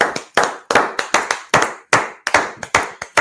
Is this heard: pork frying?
no